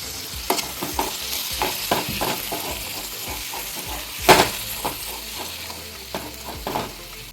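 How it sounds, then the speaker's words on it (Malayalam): Mushrooms and curry leaves are stirred and fry in a pan for a mushroom roast. Loud close sizzling runs throughout, with repeated scraping strokes of a spoon against the pan and one sharper clatter partway through. "ഇനി കൂണിട്ട് കൊടുക്കാം. ഉള്ള കറിവേപ്പിലയും കൂടി ഇട്ട് ഇളക്കി കൊടുക്കാം."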